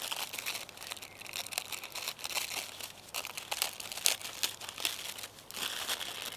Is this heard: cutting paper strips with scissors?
yes